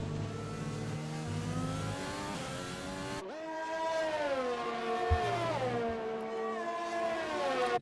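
Race cars screaming through the Belgian Grand Prix in a PC sim racing game, loud high-revving engines rising and falling in pitch as they accelerate and shift, one car sweeping past close by while others drone behind.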